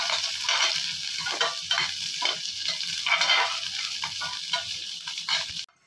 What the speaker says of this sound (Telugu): మళ్ళీ ఉల్లిపాయ వేసుకోవాలి ఈ ఉల్లిపాయను మంచి రెడ్డిగా వేపుకోవాలి